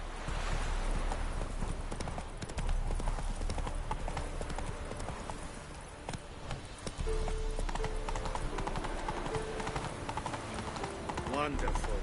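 Roach, a horse in The Witcher game, gallops with a dense, continuous clatter of hooves under steady background sound, a voice speaking faintly at times.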